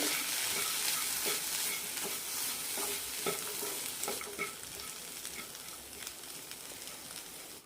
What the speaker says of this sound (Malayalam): ഇനി ഇതിലേക്ക് മല്ലിയലിയും നാരങ്ങാനീരും ഒഴിച്ചു കൊടുക്കാം പകുതി നാരങ്ങയുടെ ജ്യൂസാണ് എടുത്തിരിക്കുന്നത് ഒഴിച്ചു കൊടുക്കാം നന്നായി മിക്സ് ചെയ്യാം